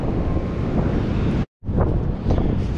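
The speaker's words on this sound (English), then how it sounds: "It's extremely windy." Strong wind roars and buffets a microphone on a beach, a loud continuous rumble that drops out for a split second, then gusts back.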